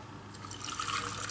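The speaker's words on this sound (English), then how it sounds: "I'm going to put my hot water in" Hot water pours into a canning jar of mini potatoes, a close, steady trickling fill that rises in pitch and loudness as the jar fills, with no talking.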